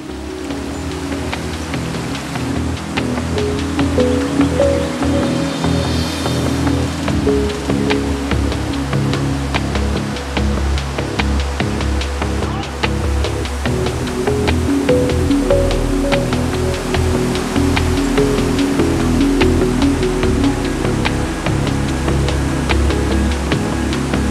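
A powerful waterfall in the Austrian Alps gives a constant, dense rushing roar of falling water, close and loud, steady for the whole stretch without any voices.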